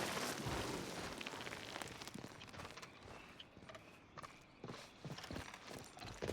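Horse hooves clip-clop in Red Dead Redemption 2, a steady run of close, fairly loud beats over a dense, noisy background.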